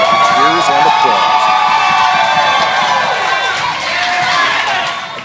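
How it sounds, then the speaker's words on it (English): Loud crowd cheering, whooping and clapping as an Apple Store in a mall opens at 8 for the iPhone 6 launch, a dense, continuous roar of voices close by, with shouts rising and falling throughout. "the Apple Store opened to cheers and applause"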